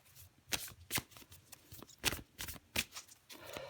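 Tarot cards riffled and shuffled in the hands, with several sharp bursts of rapid card flutter separated by short pauses and softer sliding between them, close and fairly quiet.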